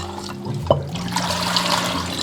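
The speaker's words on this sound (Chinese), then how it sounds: "然后我们再给它淘洗干净。" Sea snails are swished and rinsed in a basin of water after being rubbed with salt, giving a continuous close sloshing and trickling with a brief clatter partway through.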